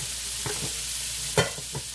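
Food stirred in a Ninja Foodi pot, with a faint hissing sizzle throughout and a few soft scraping knocks, one sharper than the rest.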